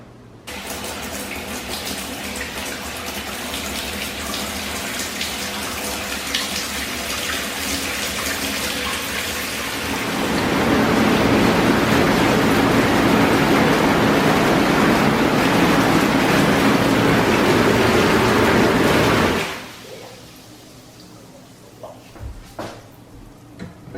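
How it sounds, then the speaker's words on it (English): Water drains from a jetted Jacuzzi tub in a steady broadband rush that grows louder midway, then cuts off abruptly near the end, leaving only faint scattered knocks. "now the water has completely drained out"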